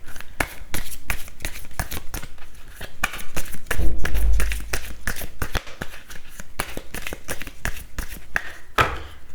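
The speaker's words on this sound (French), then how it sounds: "La carte des énergies. Je vais en prendre 2." A deck of oracle cards is shuffled steadily and close up, with dense rapid riffling and a brief louder thump midway as two cards are drawn.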